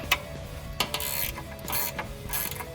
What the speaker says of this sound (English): Ratchet wrench on this, see if it'll fit.